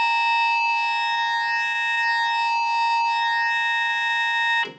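A synthesizer pulse wave with unequal on and off times holds a steady, bright, buzzy tone with stacked harmonics, sustained evenly for several seconds before cutting off abruptly.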